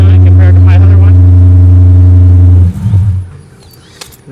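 2010 Dodge Challenger R/T engine, loud and close, holding a deep steady growl for about two and a half seconds before dropping away to quieter clatter and background noise.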